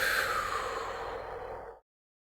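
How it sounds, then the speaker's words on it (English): A single long, audible exhale through the mouth during a calming breathing exercise, breathy and close, tapering off over about a second and a half, followed by silence. "Take a nice deep inhale through your nose. Exhale through your mouth."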